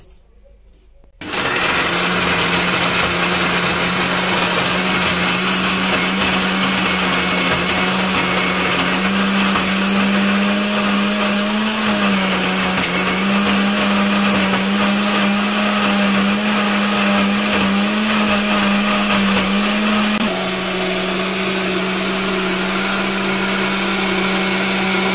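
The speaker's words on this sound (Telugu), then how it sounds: "వీటిని మిక్సీ పట్టేస్తాం" A mixer grinder blends coconut with water, starting abruptly after a brief quiet moment and then running as a loud, steady high whine with a slight pitch shift partway through.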